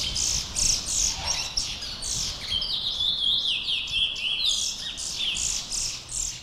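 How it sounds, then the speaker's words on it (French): Picolette songbirds, small pet birds kept in a home in French Guiana, sing in a steady stream of bright chirps, trills and whistles, several overlapping throughout at close range. "des picolettes, de petits oiseaux chanteurs très prisés en Guyane"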